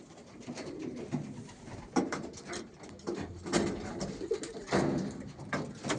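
Homing pigeons coo again and again at close range, their soft throaty calls overlapping, with faint rustling and fluttering in between.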